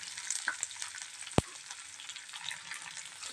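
Onion, curry leaves, dried red chilli and garlic sautéing in a pan give a steady close hiss and sizzle, with a few soft stirring scrapes and one sharp clack.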